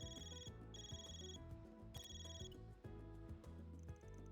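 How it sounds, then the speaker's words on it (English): A phone rings in the video game Trails Through Daybreak, a looping electronic ringtone of repeated bright tonal bursts over steady game music, loud and clear with no talking. "My stupid phone"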